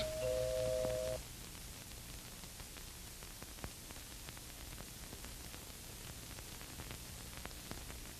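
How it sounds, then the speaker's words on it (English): A short two-tone doorbell chime sounds once at the start, then fades into a quiet hiss with a few faint clicks. "the front door bell rings"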